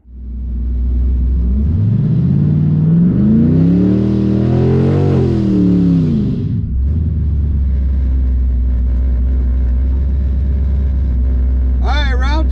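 A drag racing car launches and accelerates down the strip at Mo Kan Dragway during Rocky Mountain Race Week, engine revving up through gears in a loud close roar, then settling into a steady heavy rumble.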